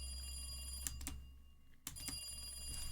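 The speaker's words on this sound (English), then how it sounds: "after the phone had rang around 10 times" A telephone rings in the Higurashi visual novel, two short bursts of bright bell-like trills separated by a pause, fairly faint over a steady low hum.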